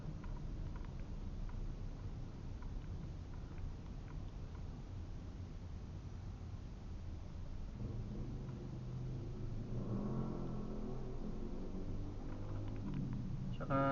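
A 2021 Mitsubishi Xpander GLS drives through BGC streets, heard from inside as a steady low road and engine rumble that grows slightly fuller toward the end.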